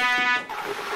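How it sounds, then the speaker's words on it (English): A toy trumpet blares a sustained buzzy tone for about half a second, then a rougher, breathier note follows; loud and close, with no talk. "I can play the trumpet."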